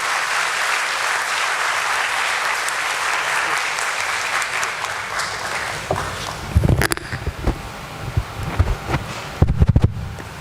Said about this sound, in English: Please welcome him with a warm applause.